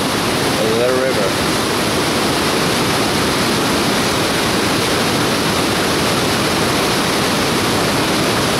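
A big waterfall on a Snowbird mountain hike gives a constant, loud, broadband rushing roar that holds steady all the way through.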